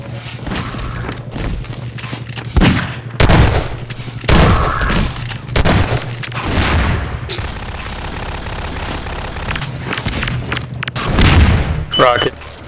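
RPG rocket blasts and gunfire in a Half-Life 2 Deathmatch match, with heavy booming explosions and bursts of shots hitting repeatedly at irregular intervals, loud and close, while a player talks intermittently.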